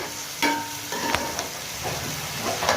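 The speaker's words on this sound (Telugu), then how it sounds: "ఇవి బాగా కలర్ వచ్చేదాకా మాత్రం ఫ్రై చేసుకోవాలండి" Tomato pieces fry in a pan for spicy mint mutton pulao, giving a steady close sizzle broken by a few sharp scrapes and clinks of stirring, with no talking.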